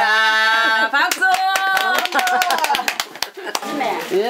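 Group clapping in a Korean island home during a meal, a burst of irregular, close hand claps mixed with laughing, singing voices and chatter.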